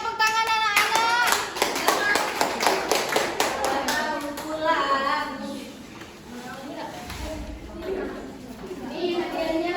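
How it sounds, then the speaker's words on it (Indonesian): Children clap their hands in a classroom, a quick run of sharp claps at the start followed by scattered clapping mixed with lively children's voices and chatter. "Ya, tepuk tangan anak-anak."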